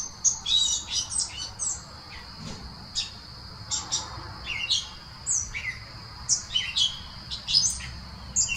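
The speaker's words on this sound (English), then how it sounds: "The birds love it too." Many birds chirp and tweet outdoors in the evening, quick bright calls in overlapping bursts throughout, fairly close and clear over a low steady background.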